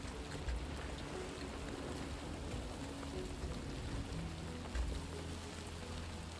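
Torrential rain in a muddy valley, a steady broadband hiss of downpour holding evenly throughout, with a couple of brief low thumps.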